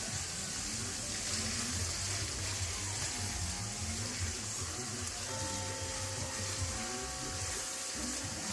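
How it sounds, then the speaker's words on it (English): A little water is poured into seasoned ground beef in a hot pan for nachos, giving a steady hissing sizzle that holds for several seconds with no speech over it. "Then I'm going to add a little water."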